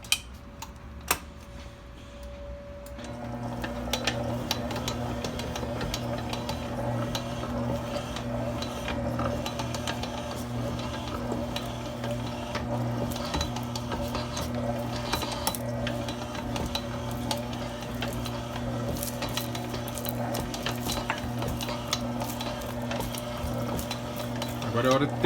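A stand mixer kneads buttery bread dough while butter is worked in a little at a time. A steady motor hum with a constant clatter of beater and bowl starts after a brief quiet opening and runs on evenly.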